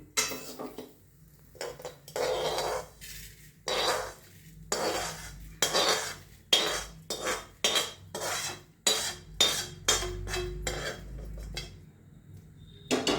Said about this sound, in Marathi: आता तो भाजला गेलाय पूर्ण आता ते आपण काढून घेऊया